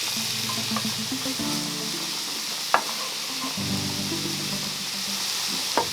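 Onion and garlic sizzle steadily in hot oil in a pan, a close, continuous frying hiss with occasional sharp pops and stirring scrapes, with no voices.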